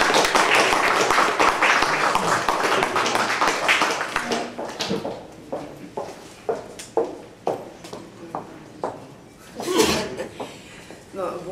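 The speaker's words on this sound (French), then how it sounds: "On peut l'applaudir aussi pour l'encourager." An audience at an open-stage show claps to encourage a performer. The applause is fairly loud for the first four seconds, then thins out into scattered, separate claps and taps, with one last brief burst near the end.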